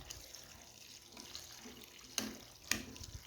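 Water runs steadily from a kitchen tap during preparation of a breadfruit oildown with pigtail, a soft continuous hiss with a couple of sharper splashes near the end.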